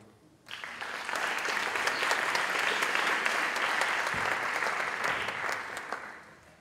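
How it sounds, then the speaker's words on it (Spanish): An audience bursts into applause to welcome a speaker at a talk event in Barcelona, a dense, steady wash of clapping that starts abruptly, holds evenly for several seconds and then tapers off. "muchas gracias por venir y un fuerte aplauso del público."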